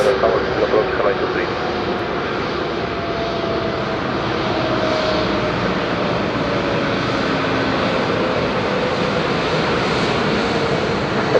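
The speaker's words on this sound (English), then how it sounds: "an Airbus missing the taxiway" An Airbus airliner at Madeira Island Airport roars loudly and continuously with a deep jet-engine rumble and hiss, a brief voice audible at the start.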